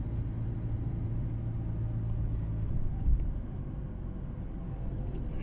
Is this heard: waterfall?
no